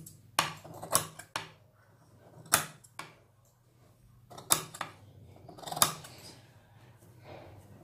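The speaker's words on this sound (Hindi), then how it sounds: "पूरे गले के ऊपर गोलाई में हम इस तरह से इसको कट लगाएंगे।" Scissors cut fabric around a petticoat neckline in a series of distinct, close snips, sometimes in quick pairs, separated by pauses over a low steady background hum.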